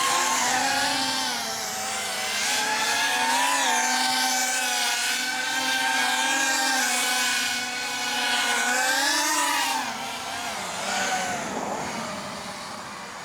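An FPV racing quadcopter (RCinpower GTS IV motors, stock Betaflight 4.5) flies near, its motors whining at a high pitch in rising and falling sweeps with throttle changes, steady and loud for most of the flight before easing down toward landing.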